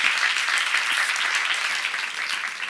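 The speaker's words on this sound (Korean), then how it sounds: "박수를 하나 주세요" Applause from a church seminar audience fills the whole stretch, a dense steady wash of many hands clapping at an even level that eases slightly toward the end, with no talk over it.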